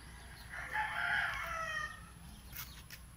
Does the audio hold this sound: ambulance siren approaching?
no